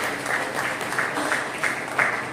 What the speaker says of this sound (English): round of applause for the physics